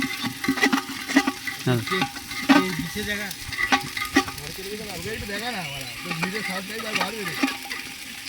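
Masala and green chilies frying in a pan for handi chicken, a steady close sizzle broken by scraping stirs, with a voice talking quietly under it.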